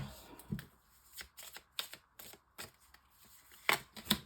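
Tarot cards shuffled by hand for a reading, a run of soft riffling bursts and crisp taps in an irregular rhythm, close and fairly quiet, with a brief murmur of voice.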